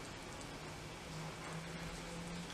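Soft steady rain falls outdoors as a faint, even hiss of drops with no voices.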